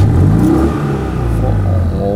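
A car engine revving under pumped accelerator pedal presses, a loud close rumble with wavering pitch that surges and settles, heard under voices speaking.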